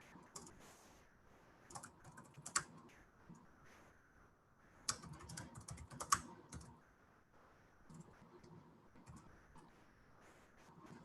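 Typing on a computer keyboard while building an app, with quiet, irregular bursts of key clicks and a few louder taps over about eleven seconds. There is no clear talk.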